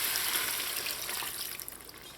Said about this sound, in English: you're going to add that reserved liquid with the seasonings.